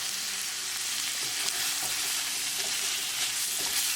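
Garlic lobster with parsley flakes being stirred in a frying pan: a steady, close sizzle with a few soft scraping strokes of the utensil, and no voices.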